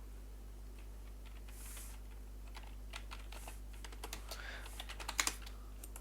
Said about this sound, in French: Vous m'entendez taper sur mon clavier.